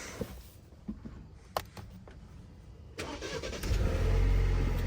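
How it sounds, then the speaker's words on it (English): A few clicks and clunks, then a 2023 Alfa Romeo Giulia Estrema AWD cranks on a cold start and catches, revving up loudly before settling into a rough, strong idle. "We're doing one more cold start"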